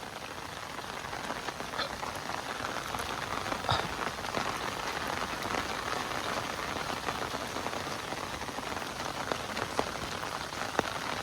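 Steady, heavy rain patters densely on surfaces near a fishing pond bank, a constant hiss with scattered louder drops and no voices.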